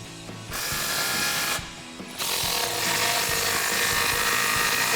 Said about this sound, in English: So when I go to tighten the Borla clamps, I do want to rotate them.